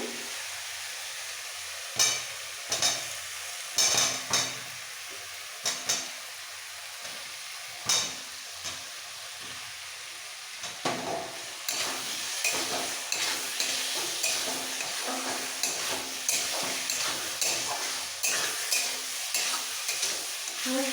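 Fried potatoes sautéed with spices for soybean-potato kosa, a low sizzle in a pan with spoon scrapes and taps, the frying growing louder and busier partway through.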